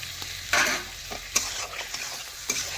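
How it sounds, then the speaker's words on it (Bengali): A spoon stirs cashew and poppy seed paste into chicken in a frying pan over a stove, with soft sizzling underneath and several scraping strokes at irregular intervals. "দেখুন ভালোভাবে এটাও নাড়াচাড়া করে মিশিয়ে নিচ্ছি।"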